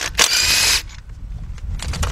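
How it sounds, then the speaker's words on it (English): Impact wrench with a 12mm deep socket on a quarter-inch drive adapter zipping off a fuel rail bolt on a 2006 Kia Sportage 2.7 V6, one loud close burst under a second long, followed by quieter handling clatter. "Get your impact with a 12mm deep 1/4" drive socket with your 1/4" drive adapter on it"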